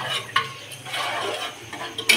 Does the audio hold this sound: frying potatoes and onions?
yes